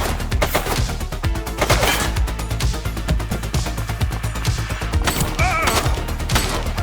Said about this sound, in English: Shots fired! Suspect KIA.